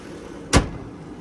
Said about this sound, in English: But let's shut this hood